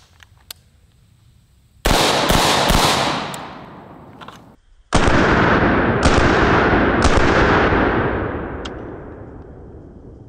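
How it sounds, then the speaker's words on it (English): AR-15 rifle firing green tip ammunition into a large sandbox outdoors, loud sharp shots, a few close together then spaced ones, each with a long echoing decay. "We're gonna start with the AR-15, and we are using green tip"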